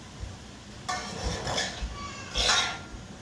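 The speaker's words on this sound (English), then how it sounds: "So I'm gonna stir this up." Curry being stirred in a pot: a few scattered metallic scrapes and clinks of a spoon against the pot, soft and close, with quiet pauses between strokes.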